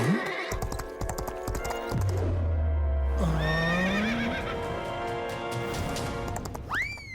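A cartoon horse in a Telugu Honey Bunny kids' episode about horse riding, carrying its rider Kitty, gives loud whinnies at the start, middle and end over steady clip-clop galloping and busy cartoon music.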